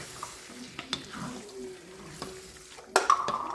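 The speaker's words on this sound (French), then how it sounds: "Donc, on continue de remuer le tout." Homemade Chinese fried rice being stirred in a pan, with soft scraping and faint sizzling throughout, then a sharper clatter of utensil against pan near the end.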